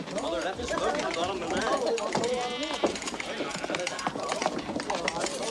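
Several sheep bleat over one another nearby, with people talking and hooves shuffling in the background.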